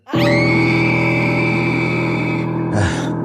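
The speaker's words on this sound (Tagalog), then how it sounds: "At hindi ko gusto ang tunog ng tili na yun." A shrill, sustained scream rings out loud and close for nearly three seconds, then breaks off and is followed by a short second burst.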